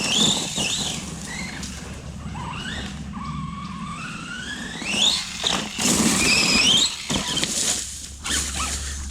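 Tires of a Yamaha MT10 motorcycle fitted with Chinese tyres squeal on tarmac in a series of rising, wavering shrieks over a low engine rumble, loudest toward the end, with no talk.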